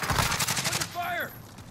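Dense automatic gunfire in Call of Duty Warzone rattles close and loud for about a second, then cuts out as a short whooshing, sweeping sound trails off.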